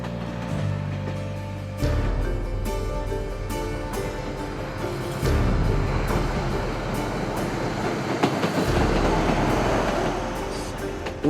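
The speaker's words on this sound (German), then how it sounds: "Der Zug setzt seine Reise fort, und zwar langsam." A train rolls slowly along the rails near Hakata Station, Japan, with steady rumbling and occasional clicks and clanks from the wheels, close and continuous.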